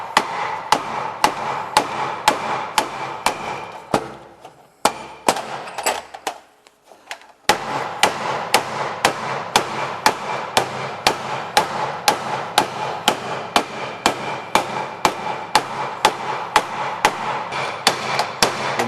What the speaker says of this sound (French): Et à l'aide du marteau et ici d'un morceau de chambre à air dans un premier temps,